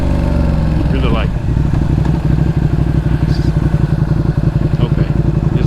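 A 2020 Ducati Panigale V2 on a road ride, its engine loud and close, a steady rapid pulsing drone under a brief rise in revs near the start.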